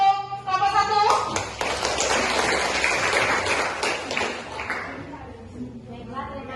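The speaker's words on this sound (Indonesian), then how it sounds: "Oke, kita berikan aplaus untuk kelompok 1." A classroom gives a round of applause to student group 1: several people clap together for a few seconds, with a voice speaking just before and after.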